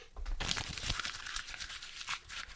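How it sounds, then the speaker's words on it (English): A sheet of paper is crumpled by hand nearby, giving a steady run of crackling, crinkling rustles for a couple of seconds with no voices. "I'm crumpling up this piece of paper"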